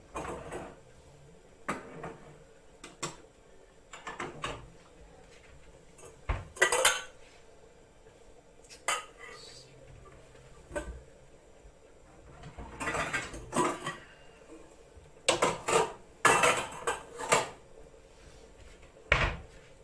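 Pots, pans and cutlery clatter on a kitchen hob while brown stew pork belly is being cooked, with sharp metallic knocks and scrapes coming in irregular bursts, loudest in a cluster near the end, with no talking.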